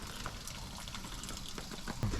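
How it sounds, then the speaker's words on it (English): Water runs steadily into the tank of an evaporative air cooler, a faint, even rushing trickle that swells slightly near the end, with muffled voices in the background. "I can hear the water filling up in the cooler"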